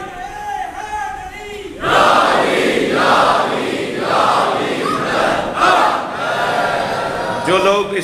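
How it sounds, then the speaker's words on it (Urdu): A large crowd at a Muharram majlis gathering chanting the Nara-e-Haidari religious slogan, a loud massed roar of voices rising in repeated surges after a raised voice leads at the start. "آج بڑے آرام سے آپ نعرہ حیدری لگا دیتے ہیں"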